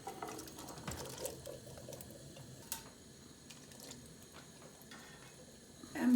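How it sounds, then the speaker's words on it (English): About half a can of water is poured into a pan of thick canned beans for Puerto Rican rice and beans. It makes a steady, soft splashing pour in a kitchen, with faint clinks and a brief louder rattle at the end. "I'm gonna put a little bit more water, like a half a can"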